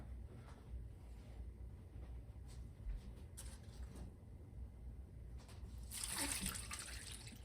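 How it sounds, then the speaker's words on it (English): Beef pan drippings poured into a pot of bone broth make a faint liquid splash and trickle, swelling briefly toward the end over quiet kitchen background. "I'm also gonna add the drippings from the pan."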